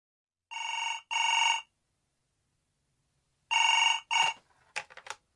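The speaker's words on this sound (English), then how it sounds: "I'm ringing about the advertisement in yesterday's newspaper." A telephone bell rings in two double bursts separated by a pause, loud and close in an otherwise silent room, the last burst cut short by a pickup click and handling noise.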